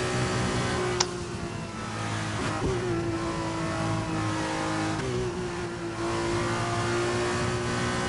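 Race car engines in a racing video game at a British round drone steadily with shifting revs and pitch rises, a continuous mid-level motor hum with no talking.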